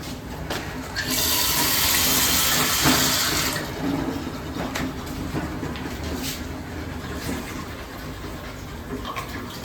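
Water gushes loudly from a kitchen tap for a few seconds, then settles into a steadier flow with clinks and small knocks nearby.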